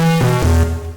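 A short, bright tearout dubstep synth tone from the Vital synthesizer, with rich buzzy harmonics, slides downward in pitch in steps, then fades out within a second.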